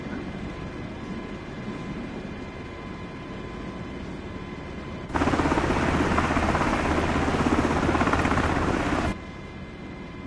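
An MH60 helicopter in a flight simulator game gives a steady rotor and engine drone that swells sharply louder for a few seconds in the middle before settling back to the same continuous hum.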